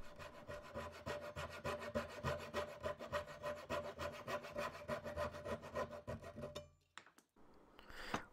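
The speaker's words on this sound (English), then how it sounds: "I used a dovetail saw to cut out the pins, and a coping saw to remove the waste from in between them" Hand sawing of wooden dovetail pins with a dovetail saw and coping saw, a steady rhythmic rasping of back-and-forth strokes, close and moderately quiet, ending in a brief pause and a few lighter scrapes.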